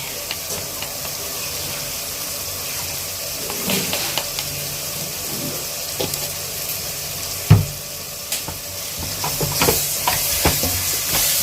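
Onion, tomato, chili powder and turmeric sautéing in a pan for a Kerala fish curry, a soft steady sizzle with scattered stirring scrapes and a louder clatter midway, no voices.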